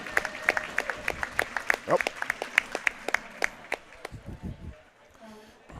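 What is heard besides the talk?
applause for a veteran hockey official getting to his feet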